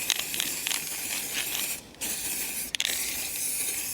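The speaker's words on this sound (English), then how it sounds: "Right, let's spray some paint on it." A spray paint can hisses onto an MDF board for a Warhammer playing aid, a close, loud continuous spray broken by two short pauses.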